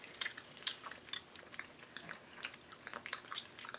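Close, quiet chewing of a green apple flavored Bean Boozled jelly bean, with repeated soft wet crunches and mouth clicks in an uneven rhythm.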